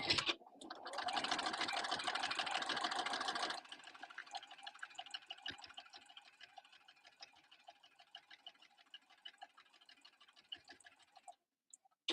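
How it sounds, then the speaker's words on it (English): A sewing machine top-stitches down binding, running in a fast, loud stitching burst for a few seconds, then continuing more quietly with a steady ticking rhythm before stopping, with no talking. "then you top stitch the binding down"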